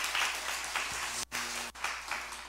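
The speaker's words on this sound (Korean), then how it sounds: "목사님과 사모님의 격려를 박수" A church congregation claps together during an evening revival meeting, a steady wash of applause that stays fairly soft and distant, with brief dips in the middle.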